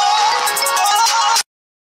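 Mobile phone ringtone playing loud and close, a bright repeating electronic melody that cuts off abruptly after about a second and a half, leaving silence.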